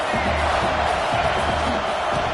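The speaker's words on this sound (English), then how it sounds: "This crowd bringing the energy and noise early." A stadium crowd at a college football game in the NCAA 26 video game roars and cheers in a dense, continuous wash of noise, loud and steady throughout with no clear breaks.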